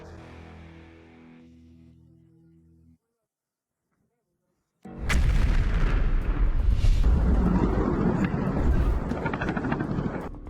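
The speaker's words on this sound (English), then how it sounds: "More details about the latest and most striking explosions in Russia" A low tonal drone stops, a brief silence follows, then a loud, sustained rumbling explosion blast in Russia with crackling bursts fills the rest.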